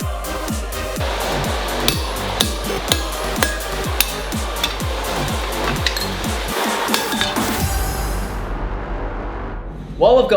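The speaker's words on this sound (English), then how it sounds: "we're getting all of the holes punched in this bracket" Steel bracket being punched with holes at a forge: sharp ringing hammer blows land in a steady rhythm, close and loud, with clinking metal between strikes before the pounding fades and a brief clatter ends it.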